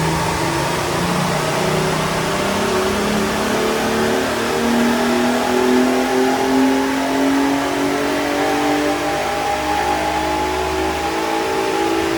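An R32-engined Mk2 Golf GTI revs hard on a dyno, a loud, continuous engine roar climbing steadily in pitch as it pulls through the gears, dominating throughout without speech.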